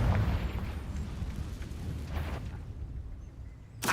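A Confringo fire-blast spell erupts in Hogwarts Legacy, a loud booming burst at the start that rumbles and fades, followed by quieter crackles and a sharp hit near the end.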